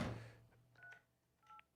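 Telephone keypad tones sound as a number is dialed: a couple of short, clean electronic beeps separated by brief pauses, faint and alone.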